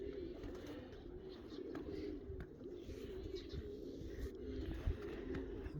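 Pigeons at a racing pigeon loft in Lithuania give soft, repeated low coos over a quiet background hum, near and gentle, with faint rustling between calls.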